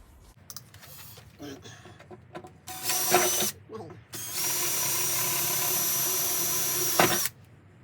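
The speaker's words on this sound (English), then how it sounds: "So we've got 3 holes to drill in the inner wing." A power drill whirs in short bursts, drilling holes in the metal inner wing of a Mini Cooper, then runs steadily for a few seconds before stopping, loud and close, with clicks and handling noise between.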